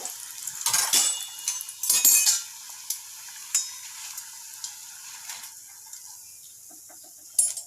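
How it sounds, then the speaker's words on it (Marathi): Vada frying in hot oil, a soft steady sizzle punctuated by sharp metallic clinks and scrapes of a utensil stirring and lifting the pieces from the pan, close by with no talk. "बघा वडे खूप छान फ्राय झालेले आहे आता आपण यांना काढून घेऊ"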